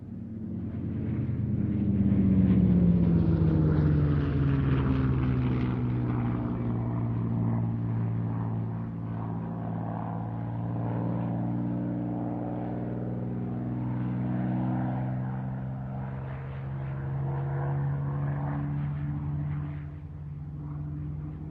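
A P-51 Mustang propeller fighter flies past at an airshow flying day at Duxford, a loud sustained piston-engine drone with a rising and falling pitch, fairly close and heard alone.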